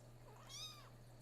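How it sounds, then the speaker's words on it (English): A single cat meow rising and falling over about half a second, faint and close, against a steady low electrical hum, with no talking. "You silly cat?"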